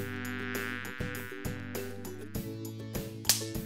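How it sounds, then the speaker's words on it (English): Buzzing of a cartoon robot wasp: a steady, droning electronic hum with layered tones that runs through the whole stretch, pulsing slightly with a few sharper accents and no voices. "That pesky robot wasp is back again."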